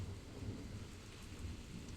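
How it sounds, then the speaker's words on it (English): Steady rain with a low rumble of thunder in the Minecraft modpack SkyFactory 4, a soft continuous hiss of falling drops over a deep rolling undertone, faint and even with no voices. "it is starting to rain out there."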